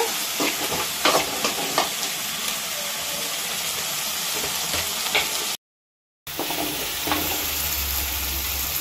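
Two green chillies frying in a pan, with a steady hissing sizzle and occasional stirring clicks, broken by a short moment of silence partway through.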